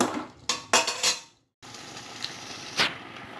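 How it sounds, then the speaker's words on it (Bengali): A utensil stirs soya chunks around a pan over medium heat, producing clattering scrapes and clinks against the metal, then a brief silence, followed by a soft frying hiss with another scrape. "সোয়াবিন দেওয়ার পর কন্টিনিউ নাড়তে থাকবো"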